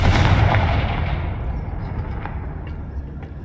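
A single Confringo fire spell blast from Hogwarts Legacy opens with a heavy, close boom, then a rumbling tail decays over a few seconds with faint crackles.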